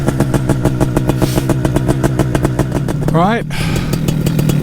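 A paramotor engine runs loud and close on an early morning before takeoff in Suffolk, a fast steady throbbing drone with a quick rising-then-falling rev sweep near the end, and a brief spoken word over it.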